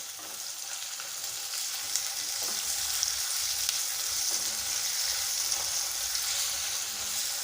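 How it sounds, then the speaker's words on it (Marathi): Tomatoes sautéing with browned onions in a pan for restaurant-style shahi paneer, giving a continuous, even sizzle and crackle with occasional small pops and no talking. "टोमॅटोला छान परतून घ्यायचं आहे"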